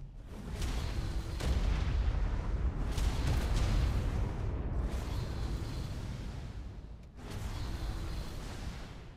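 Bomb blasts in Ark: AG Reborn, a modded survival game, come as several loud, deep, rumbling booms in succession, each swelling and decaying with brief dips between, heard alone with no talk.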